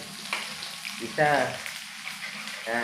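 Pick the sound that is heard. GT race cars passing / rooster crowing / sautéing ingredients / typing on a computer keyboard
sautéing ingredients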